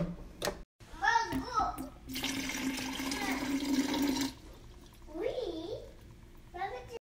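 Water pours into sugar for lemonade, a steady rushing splash lasting a couple of seconds, with a child and an adult talking before and after it.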